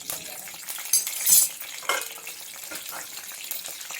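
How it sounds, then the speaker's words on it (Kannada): Whole spices (cumin seeds, a few cloves, a cinnamon stick and a cardamom pod) fry in hot oil with a steady bright crackling sizzle, broken by a few louder spoon scrapes against the pan; no voices. "ಚೂರು ಫ್ರೈ ಮಾಡ್ಕೊಳ್ಳಿ."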